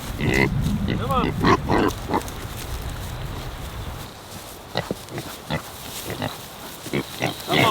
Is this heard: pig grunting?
yes